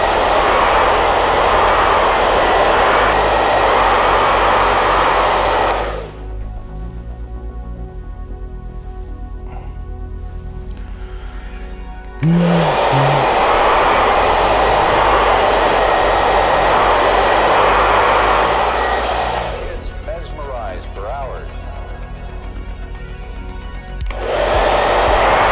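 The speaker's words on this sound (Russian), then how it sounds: "Фен." A hair dryer blows loudly on carbon decals being applied to a scale model, a steady roaring whoosh that cuts off twice for several seconds and then starts again, with no talk heard.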